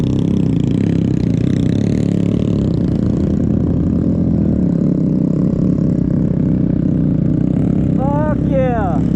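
A mini bike engine drones and revs loudly nearby, with a rough, continuous buzz under excited voices shouting and a brief high squeal near the end.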